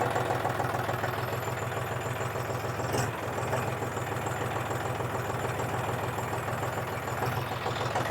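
A 2025 John Deere 5045 D tractor diesel engine runs steadily in first gear reverse, a close, continuous low rumble with even throbbing and no talk over it.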